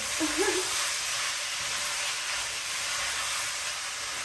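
Cooked beans for Mexican chili sizzling in a pot as they are stirred, a constant close hiss with faint scraping and a brief voice near the start.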